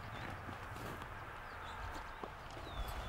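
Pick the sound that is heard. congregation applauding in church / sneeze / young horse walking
young horse walking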